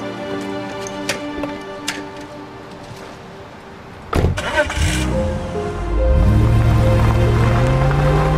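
A car door thuds shut and an engine cranks and fires, settling into a steady idle hum, preceded by faint taps and rustles in a quiet interior, with no talk.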